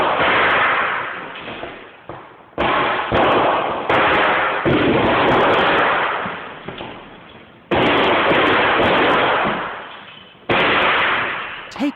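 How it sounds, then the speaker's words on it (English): A failing e-scooter lithium battery burns in a facility fire, its cells bursting in loud, crackling blasts and sharp pops that roar on and off in repeated violent bursts, broken by brief drops toward quiet. "you can hear the sounds of the battery"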